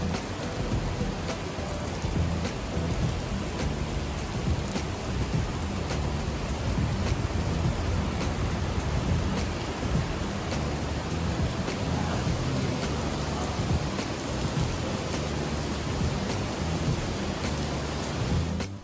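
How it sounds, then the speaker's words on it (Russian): Heavy rain pours down outdoors during a thunderstorm, a dense, steady roar with no breaks and low thunder rumbling beneath it throughout. "там сильный дождь идет"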